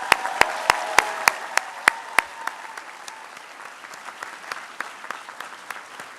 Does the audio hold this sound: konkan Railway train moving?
no